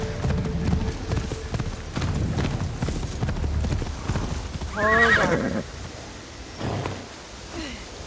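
A horse ridden across open country in Assassin's Creed Shadows, hooves clip-clopping steadily at a gallop, then a loud whinny and a few softer snorts as the ride slows.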